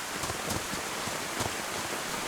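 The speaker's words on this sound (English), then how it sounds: "I think it might just be the rain and stuff that's causing that sound." Steady rain falls in the DayZ video game on the Chernarus map, a soft continuous hiss of drops with a few slightly louder gusts, heard alone at low volume.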